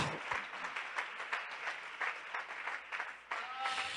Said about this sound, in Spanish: Denle ese aplauso al Rey de Gloria.